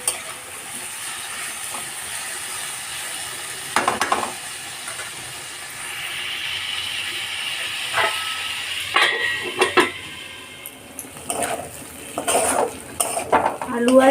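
Potatoes and prawns with salt and turmeric fry in a pan while being stirred, giving a steady soft sizzle broken by close scraping and clinking of a utensil against the metal, with no talk.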